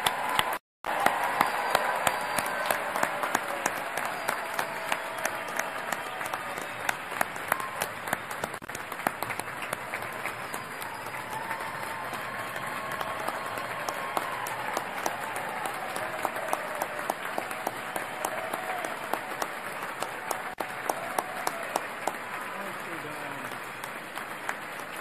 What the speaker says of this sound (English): Join me in giving all our graduates a well-deserved round of applause.